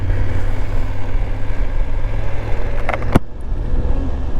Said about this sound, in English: So yeah, I'm only driving 30 kilometers per hour from now on.